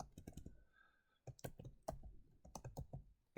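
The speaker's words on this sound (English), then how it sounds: "I'm going to type this out just because" Quiet, close keystrokes on a computer keyboard come in uneven bursts of clicks and taps, with short pauses between the runs of typing.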